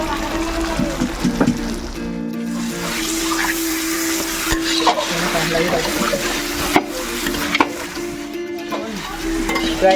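Chicken sautéing in a hot pan, with continuous sizzling and frying along with repeated scraping and clattering of a stirring utensil against the pan, while people talk in the background.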